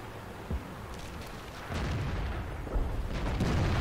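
A tank cannon firing in World of Tanks, a couple of heavy booms over a steady rumbling battlefield background.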